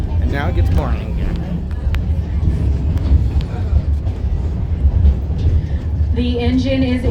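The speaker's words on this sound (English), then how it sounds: "The engine is entering a curve" A train on the Georgetown Loop Railroad rumbles steadily along the track into a curve with heavy low clatter and rolling noise, a tonal whine rising near the end.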